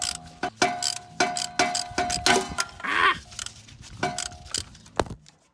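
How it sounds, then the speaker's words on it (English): A ratchet fitted with an 11mm socket undoes the fuel pump bolts on a barn-find Austin Maestro, giving a close, repeated series of rapid metallic clicking strokes with pauses, a brief rustle and a final sharp clink. "So I have an 11mm socket on my ratchet, and let's start undoing."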